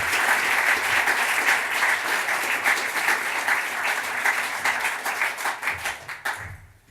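A lecture audience claps to welcome the speaker to the stage: steady, dense applause from a full room holds for several seconds, then fades into scattered final claps.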